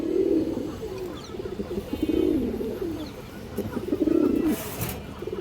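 Kaldom pigeons coo nearby in soft, low, repeated rolling calls, three main coos over a steady background murmur.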